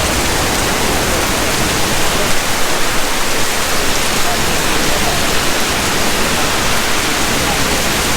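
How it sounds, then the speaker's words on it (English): Rain in Shenzhen, China, dripping and pouring down from a roof, a dense, loud, continuous hiss and patter that fills the whole stretch with no pauses. "it's raining. You know how fun that can be. It's just dripping down from the roof"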